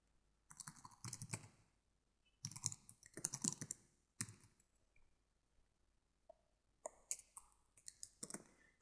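Typing on a computer keyboard in quiet bursts of rapid, crisp key clicks separated by short pauses, close and fairly soft.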